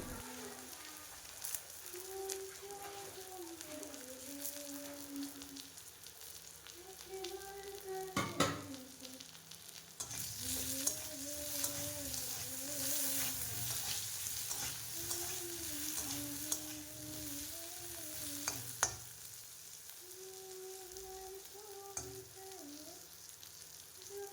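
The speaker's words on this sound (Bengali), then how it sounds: "এখন আমি এই তেলেই মাছ যে ভাজা হয়েছে ওই তেলটাই এখন আলুগুলো ভেজে নিচ্ছি" Potatoes frying in oil already used for frying fish, in a home kitchen on a rainy day, give a steady low sizzle with occasional stirring clatters, while faint voices sound in the background.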